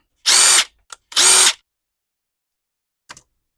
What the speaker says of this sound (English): And let's take this carb apart. All right, first I want to get down to the diaphragm right here. So using a screwdriver.